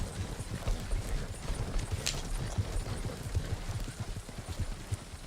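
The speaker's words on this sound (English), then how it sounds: "You can hear the horses." Horse hooves clip-clop in a steady, rapid rhythm throughout in a roleplay video game, a continuous low, muffled trotting beat with a brief neigh-like accent.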